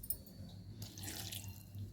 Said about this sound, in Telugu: కొంచెం వాటర్ వేసుకొని